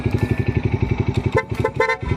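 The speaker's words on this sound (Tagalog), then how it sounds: "Loud horn." A motorcycle horn beeps briefly twice over the steady, rhythmic chug of an idling engine, close and fairly loud.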